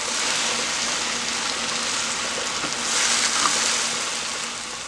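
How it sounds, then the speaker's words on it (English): Pork steaks frying in a pan on medium-high heat give a steady, dense sizzle that swells slightly partway through, close and continuous with no talking. "I've been frying it about 15 minutes"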